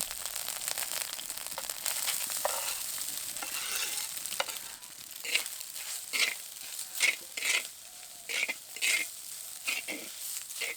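Grated duck egg fries in oil with ginger and green-chilli paste, a soft, steady sizzle close at hand. A spoon stirs and scrapes in repeated rhythmic strokes, with no talk.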